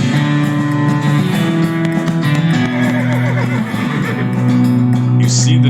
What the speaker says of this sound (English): You see the dark horse